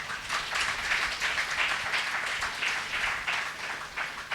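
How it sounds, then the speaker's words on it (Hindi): A church congregation claps hands together, a dense, steady patter of many palms in a rhythmic beat that fills the room for several seconds with no one speaking. "आप लोग तालियां बजाकर परमेश्वर को धन्यवाद दीजिए"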